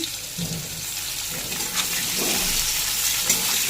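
Strips of papaya and potato fry in oil with cumin seeds, giving a steady close sizzle with occasional stirring scrapes and clinks, no voices.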